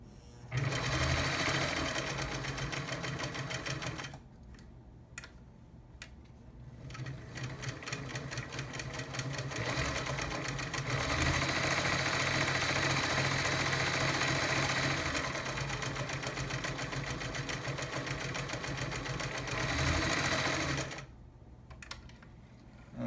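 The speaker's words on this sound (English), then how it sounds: "And we'll go for our blind stitch." A vintage Singer Stylist 513 sewing machine sews a blind stitch with a loud, steady mechanical whirring and rapid needle clatter, running for long stretches with two brief pauses.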